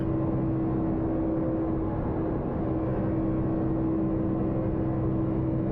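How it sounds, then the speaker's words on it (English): Race car engines on the Talladega superspeedway in a racing video game, a steady continuous drone with a sustained tone, moderately loud and unbroken, no talking. "You have to just listen to the engines of the car"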